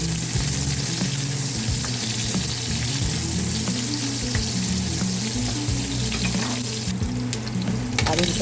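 Onion sizzles and crackles steadily in a hot frying pan for a Guyanese hassa curry, a dense continuous frying hiss with occasional stirring clatter and no voices.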